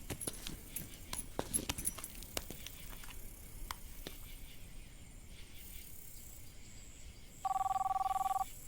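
A telephone ringing indoors in a dramatic scene: one steady electronic ring near the end, clear and moderately loud, after quiet room sounds with faint clicks and rustles and no talk.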